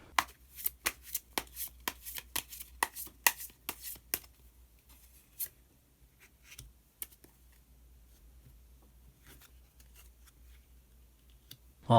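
Tarot cards are shuffled and drawn close up, first as a quick run of crisp riffling snaps, then a few sparse slides and taps fading toward near silence, with no talk.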